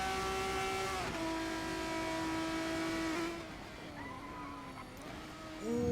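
Formula 3 race cars in a racing video game, engines whining at high pitch and then dropping sharply as they brake hard into a right-hand corner, with a renewed rev at the end.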